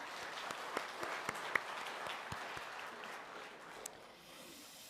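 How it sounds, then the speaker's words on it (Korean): A church congregation applauds the Zion choir after their hymn at a Sunday service, a soft, scattered patter of hands with a few sharper claps standing out, heard from a distance and fading out toward the end. "시온 찬양대 큰 박수로 격려해 주시기 바랍니다"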